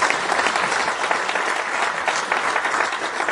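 Loud, dense applause from an audience at an International Women's Day event, continuous crowd clapping with no pauses, close and full throughout.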